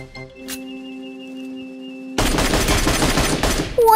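Video-game gunfire with high-explosive rounds: after a quiet stretch holding a steady electronic tone and a brief chirp, a dense, loud burst of rapid automatic shots erupts and continues to the end.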